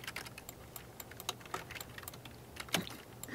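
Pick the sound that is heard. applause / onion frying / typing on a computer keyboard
typing on a computer keyboard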